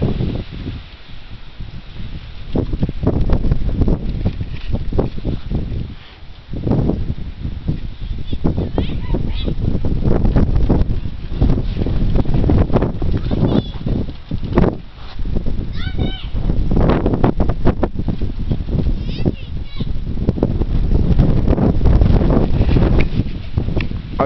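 A strong gust of wind buffets a vertical axis wind turbine outdoors, producing loud, continuous rumbling microphone noise with rustling that swells and dips throughout.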